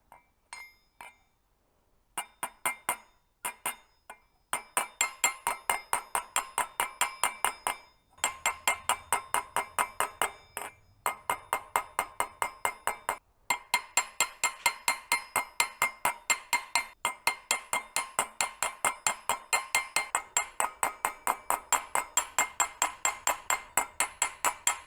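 A hammer texturing a copper cup, giving bright metallic taps in quick, even runs broken by short pauses, close and fairly crisp, with no voices.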